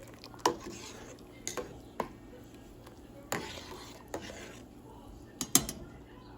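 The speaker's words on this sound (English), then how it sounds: "Give it a stir." A utensil clinks and scrapes against a pot of boiling beef soup (caldo de res) with consomme in a few scattered strokes, with soft sizzling or bubbling underneath and no talking.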